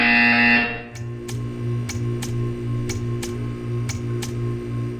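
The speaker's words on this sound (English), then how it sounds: "You will hear a buzzer" Buzzer in the Portal 2 video game: a loud tone cuts off, then a series of short, evenly spaced buzzes repeat about every half second over a low steady hum.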